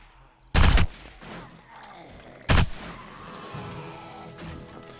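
Gunfire in the 7 Days To Die video game during horde mode, with two loud, sharp shots about two seconds apart, each followed by a fading rumble and quiet ambient noise.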